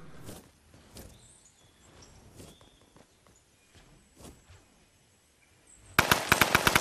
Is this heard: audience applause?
no